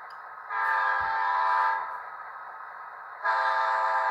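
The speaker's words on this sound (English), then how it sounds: "Function 3 is apparently a Doppler horn." Doppler horn effect on a Rapido later-phase F40PH model locomotive in ski train scheme, a loud multi-tone electronic horn blast that swells, dips in pitch and returns, with a brief click near the start.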